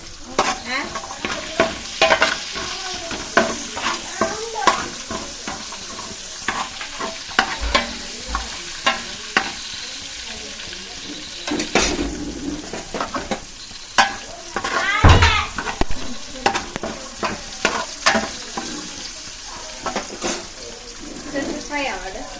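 Onions fry in a pan with a steady sizzle, and a spatula stirs and scrapes repeatedly. People talk over the cooking throughout.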